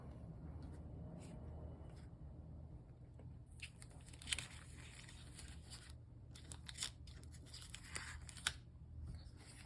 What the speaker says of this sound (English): I cut out the background piece of the bag topper